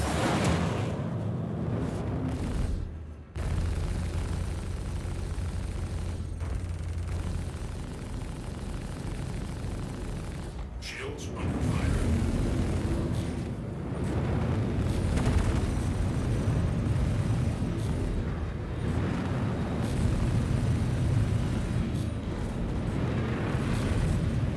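Missiles firing and exploding during a Star Citizen space fight: a dense, sustained roar of blasts and rumbling explosions with engine noise, loud and continuous with only brief dips.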